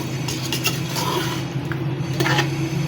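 A turnip and meat curry seasoned with black pepper, garam masala and green chilies is stirred in a metal pot, with a spoon clinking and scraping against the sides in quick, close, repeated strokes.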